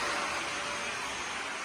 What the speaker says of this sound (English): Got a vacuum on right now